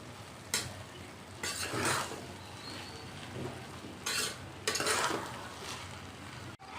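Mutton pulao with meatballs being mixed in a pot, quiet scraping and shuffling stirs arriving in a few short bursts over a low background, with no talk.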